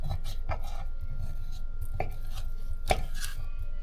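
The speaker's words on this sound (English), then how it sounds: "I'm gonna score these and get that seasoning on them by doing cross hatches" A knife scoring cross-hatch cuts into fish skin, giving a few soft, scattered cutting and scraping ticks spread across a few seconds at close range over faint background noise.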